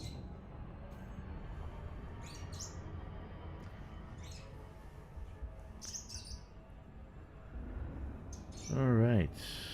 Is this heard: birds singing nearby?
yes